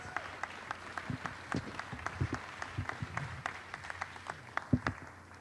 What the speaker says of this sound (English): one more round of applause for the 4 ladies